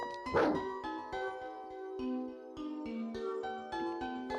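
A dog in a video game gives a run of close, tonal yelps and whimpering barks with a short burst near the start, moderately loud over a faint music-like background, with no talk.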